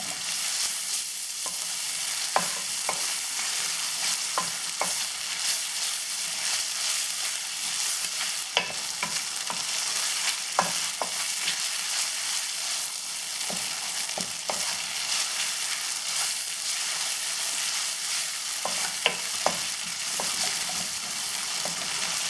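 Ginger garlic paste and tomatoes fry in hot oil for a parotta-shop salna, a steady dense sizzle with scattered crackles and spatula taps throughout, no voices.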